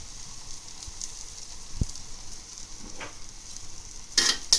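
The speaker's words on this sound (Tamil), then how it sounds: "மிளகாத்தூளை போட்டு நல்லா வதக்கிக்கணும்" Chili powder and spices sauté in oil for a large batch of fish curry, a soft, steady sizzle close by with a couple of faint spoon taps and a brief louder clatter near the end.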